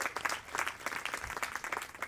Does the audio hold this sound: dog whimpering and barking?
no